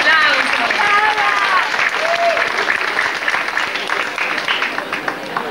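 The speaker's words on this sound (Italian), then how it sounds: "Applauso." At an amateur musical of Snow White and the Seven Dwarfs, the audience breaks into loud, sustained applause, with a few high voices calling out over the clapping as it slowly tapers.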